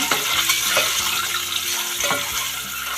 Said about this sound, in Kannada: ಈ ಮೊಟ್ಟೆ ಹಾಕ್ತಾಯಿದ್ದೀನಿ, ಫ್ರೈ ಮಾಡ್ಕೊಳ್ಳೋಣ